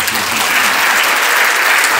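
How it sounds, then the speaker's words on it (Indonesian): Thick, loud applause from a crowd at an entrepreneurship talk show held for Santri Day, a continuous wash of clapping that fills the whole two seconds without letup. "Tepuk tangan ya."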